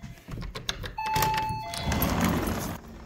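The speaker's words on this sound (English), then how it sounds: "Ring the doorbell." A single electronic doorbell chime rings out clearly, a sustained tone over soft background rustling and faint outdoor noise.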